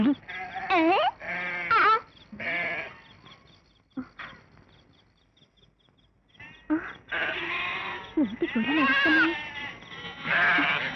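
Sheep bleat loudly and close in several wavering bursts, a cluster at the start and a longer run of calls near the end, with quiet gaps in between.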